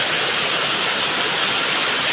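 A village river and its stream channel overflowing after heavy rain, a steady, loud, dense rush of water that fills the whole moment without a break and with no voices.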